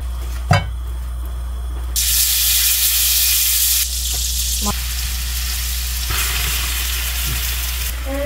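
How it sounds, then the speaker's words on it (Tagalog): Butter garlic shrimp frying in a pan in a home kitchen, a loud steady sizzle that surges as food is stirred, with a few clinks and quiet background talk. "Tapos, magluluto din ako ng hipon."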